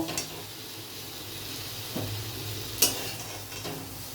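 Capsicum softly sizzling in a kadai, a steady low frying hiss with a few sharp clinks of a utensil against the pan, quiet and close.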